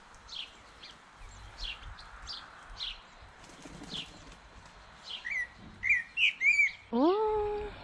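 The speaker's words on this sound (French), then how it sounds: "C'est hyper agréable avec les oiseaux." Birds chirp and tweet nearby in a garden in scattered bursts, growing busier toward the end, with soft flutters and quiet background ambience.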